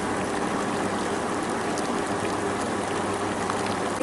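Water with tea boils in a pot, producing a dense, steady bubbling and seething hiss, close up and continuous, with no voices.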